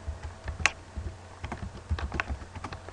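Computer keyboard keys clatter in an uneven run of light taps while someone types a folder name, close and clear against a faint low hum, with no talking.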